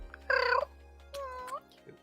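A pet cat gives two drawn-out meows, the first louder and the second softer, close by in a quiet room, with a faint murmur at the end.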